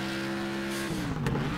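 A race car in Next Car Game drives hard, with a loud continuous engine drone that shifts pitch partway through as it bumps over curbs, heard close and without talk.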